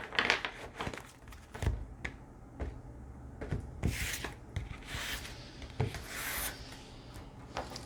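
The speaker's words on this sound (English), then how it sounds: "I'll just do a quick shuffle" A deck of oracle cards is given a quick shuffle up close, with soft rubbing and sliding punctuated by sharp snapping riffles and crisp card flicks in an irregular rhythm.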